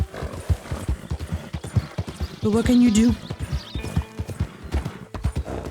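Hooves of a horse clip-clop in a steady rapid rhythm in the video game Red Dead Redemption 2, with a short whinny partway through, heard clearly under someone talking.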